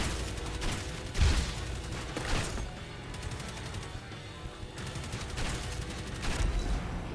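Enemies are shot in a frantic action roguelite video game: steady bursts of moderate gunfire and impacts layered over game sounds, with a few heavier thuds.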